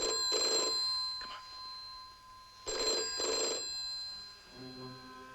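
An old-style telephone bell rings in two paired bursts, loud and close in a quiet room, with a faint tonal sound rising at the end.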